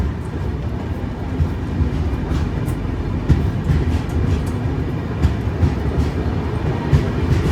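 A train rumbles loudly and continuously at a railway station, a dense low roar with faint rattling clicks of wheels and carriages, heard close without talk.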